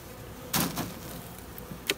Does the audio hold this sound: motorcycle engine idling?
no